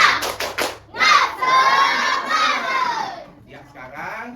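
A classroom of schoolchildren performs the 'tepuk semangat' clapping chant, a few sharp claps followed by loud shouted chanting in unison, close and energetic, ending in quieter calls.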